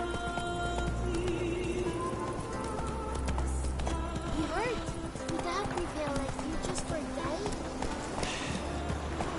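Roach, a horse in The Witcher 3, gallops with quick rhythmic hoofbeats and lets out clear neighs, backed by game music and ambient noise while a voice talks over it.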